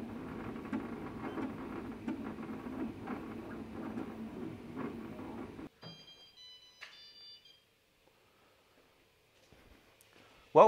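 A steady mechanical whirring and humming from a Dremel Idea Builder 3D40 3D printer runs for several seconds, then cuts off, leaving quiet with a few faint high electronic beeps and a short clatter at the end.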